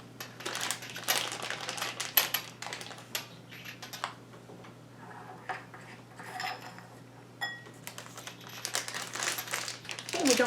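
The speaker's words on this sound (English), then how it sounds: "you take your icing and just go ahead and spoon it into your icing bag that's prepared here" Icing spooned into a prepared piping bag fitted with an open round tip, heard as close, irregular clinks of a spoon against a bowl and crinkles of the bag, with intermittent soft clatters.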